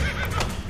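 A horse neighs in the Assassin's Creed video game, a short, fairly loud whinny set against busy game background noise.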